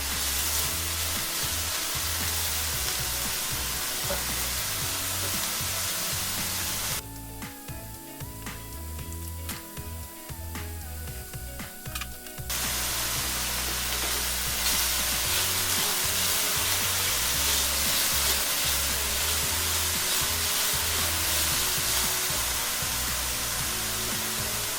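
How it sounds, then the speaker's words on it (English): Chopped green pepper frying in a cast iron skillet gives a steady, broadband sizzle that runs nearly the whole time, briefly dipping and thinning partway through before returning at full strength, with no talking. "I'm going to mix these in and we're going to cook this for about 2 minutes just till the pepper starts softening"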